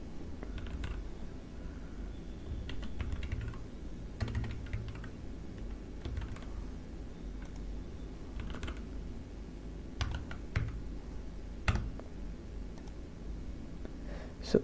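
Fingers tap out an email address and password on a computer keyboard at a login page, a run of quick, irregular key clicks with occasional louder strikes, quiet and close over low room hum, no talking.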